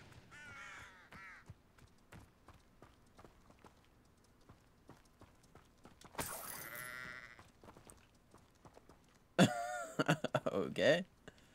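A sheep bleats in Hogwarts Legacy in a couple of short bursts, mid-clip and near the end, over sparse quiet clicks and low background.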